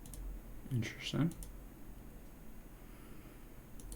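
A computer mouse gives a few sharp clicks close by, a quick pair early on and then a faint tap, against quiet room hiss.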